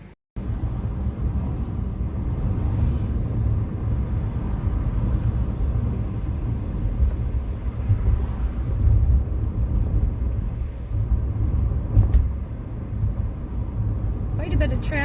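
Steady road traffic rumbling around a car on a Wednesday afternoon in winter, a continuous low drone of engines and tyres heard from inside the cabin for the whole stretch.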